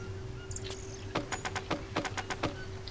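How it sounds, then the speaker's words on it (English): A bird in the jungle survival game Green Hell gives a quick series of sharp repeated chirps, about eight evenly spaced tweets over a low ambient hum, fairly close and clear with no speech. "I just heard a bird chirping and tweeting"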